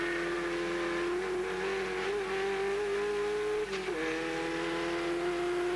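Production race cars from a 1988 championship round braking and racing on a circuit, a sustained engine drone whose pitch dips and recovers as they brake into a corner, loud and steady with no voices.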